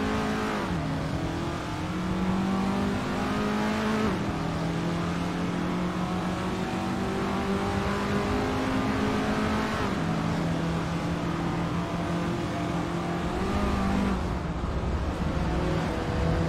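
Race cars accelerating off the start line in a racing video game on the Thomson Road circuit, a steady loud engine drone that climbs in pitch through repeated gear changes, with no voices.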